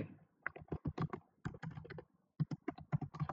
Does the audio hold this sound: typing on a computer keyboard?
yes